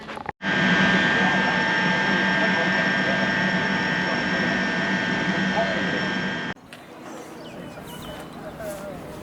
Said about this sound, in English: Approaching now is a C2C service and a district line